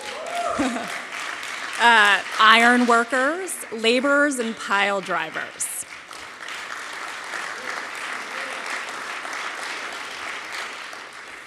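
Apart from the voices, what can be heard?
audience cheering and applause for graduates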